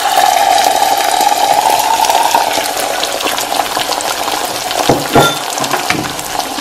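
An egg fries in a pan alongside sausage, giving a continuous close, bright sizzle and bubbling crackle that holds steady with a few louder spits near the end.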